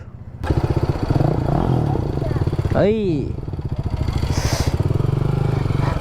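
A V4 motorcycle engine running close by with a steady, throbbing idle that briefly rises and falls in pitch as it is revved, heard under talk.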